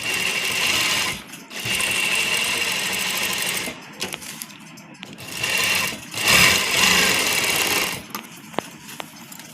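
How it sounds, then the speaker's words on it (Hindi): A sewing machine runs in several bursts while stitching a baby frock, its steady whirring motor rising and stopping with short pauses between runs, close and fairly loud with no talk. "इसके मिड में ही हमने इसकी स्टिचिंग करनी है।"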